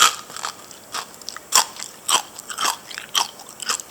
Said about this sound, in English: These really crunchy pan-fried salmon bones,